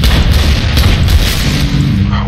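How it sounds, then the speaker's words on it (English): A dinosaur tank in the Dino D-Day video game lobs grenades, producing loud, heavy booming blasts that roll together into a continuous rumble across the whole stretch. "But he does shoot grenades"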